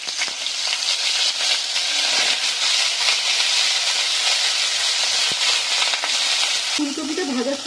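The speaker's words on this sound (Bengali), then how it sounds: "এবারে আমি ফুলকপিটাকেও ভেজে নেব" Cauliflower frying in a pan sends up a loud, dense, unbroken sizzle, with a few stirring knocks heard close by.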